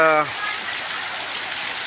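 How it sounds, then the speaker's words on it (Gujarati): Heavy rain pours steadily over a freshly sown peanut field, a dense continuous hiss of water throughout, briefly overlapping a fading voice at the very start. "જબરજસ્ત જોઈ લો ને વરસાદ"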